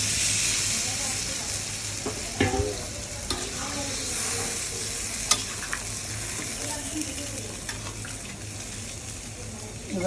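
Rohu fish curry fries in a pan as water is added and stirred in, a continuous close sizzle broken by scraping clicks and spoon knocks, with faint talk in the background.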